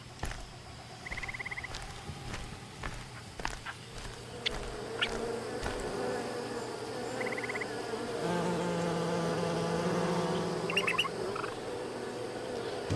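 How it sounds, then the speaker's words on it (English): Bees buzzing in the video game Amerzone: The Explorer's Legacy, a steady insect drone with occasional nearer passes and faint chirps over a quiet ambient background, no talking. "Bees are excellent distractions."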